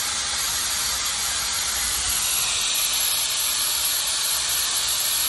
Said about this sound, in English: I just wait until I see some steam is coming out on the end.